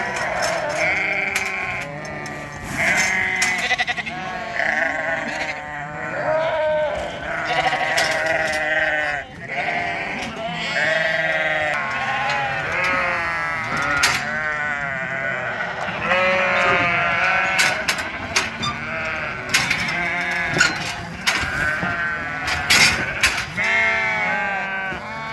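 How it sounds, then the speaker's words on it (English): A flock of recently weaned lambs bleats loudly and almost without pause, many overlapping calls of varied pitch close by on a farm, with no speech. "So here's some of our lambs that we've got weaned off."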